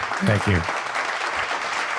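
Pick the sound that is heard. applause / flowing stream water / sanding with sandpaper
applause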